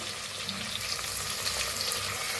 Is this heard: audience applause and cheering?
no